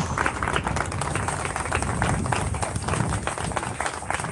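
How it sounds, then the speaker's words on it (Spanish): Congregation in a church service giving loud, sustained applause to God, a dense, steady patter of many hands clapping close by with faint voices underneath. "Vamos a darle un fuerte aplauso a nuestro Dios"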